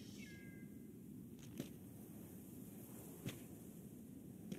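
In the Planet of Lana video game, a cat gives a single short meow near the start over a quiet ambient bed, followed by a few faint soft clicks.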